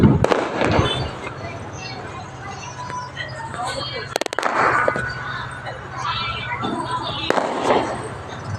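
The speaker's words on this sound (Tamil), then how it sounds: "பாருங்க வெடி வெடிக்கிறாங்க" Firecrackers go off during Karthigai Deepam celebrations in sharp, sudden bangs, a few loud ones spaced apart, with scattered crackling and distant background noise between them.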